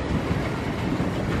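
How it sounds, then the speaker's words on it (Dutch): A train riding on its rails gives a steady, loud rumbling roar from inside the carriage, a continuous close wash of noise with no clear pauses. "Eindelijk weer eens een keer in de trein."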